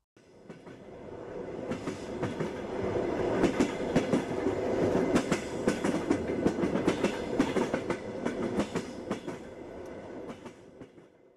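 A train runs along the rails with steady rhythmic clickety-clack from the wheels over the track joints, loud and continuous, with no speech.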